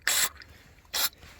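Fuel sprays from a cleaned carburetor port on an Ingersoll garden tractor in two short, sharp hissing bursts close by, with near silence between them.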